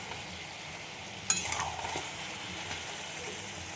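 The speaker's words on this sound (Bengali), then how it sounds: "এবার আমি জল ঢেলে দেবো।" Water is poured into a pot of simmering chicken curry with a thin gravy, causing a sudden sizzle and splash that fades into a steady bubbling hiss, close by with no talking.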